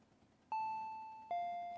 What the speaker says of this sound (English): The bell rings again.